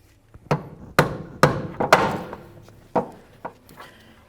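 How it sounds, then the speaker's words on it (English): A rubber mallet taps a lower control arm bushing into place on a 2007-2017 Jeep Compass, about eight sharp, close, dull thuds at uneven intervals with short decays. "You might need a rubber mallet,"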